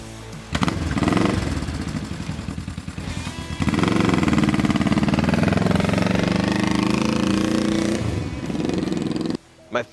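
A 1972 Honda CL350 K4 motorcycle engine runs with a rough, chattering idle that swells into a louder, steady throb, then cuts off near the end.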